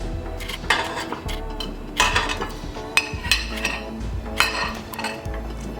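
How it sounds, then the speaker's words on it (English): Two cups of sugar and two sticks of butter go into a mixing bowl, marked by a series of clattering clinks and scrapes of utensils against the bowl, irregular and close. "put our 2 cups of sugar and our 2 sticks of butter into the bowl"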